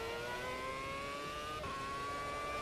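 A 2006 Formula 1 V8 race car engine in a racing game, screaming at high revs with steady rising harmonic whine, a brief dip during a gearshift, loud and continuous.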